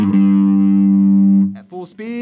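Distorted electric guitar plays a slow slide lick: one long, steady, buzzing note held for over a second, followed by a few shorter, wavering notes as it winds down.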